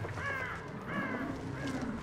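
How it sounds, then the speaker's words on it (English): Crows caw in the Hunt: Showdown video game, three hoarse calls at a moderate distance over a steady background hum. "Maybe that was a crows."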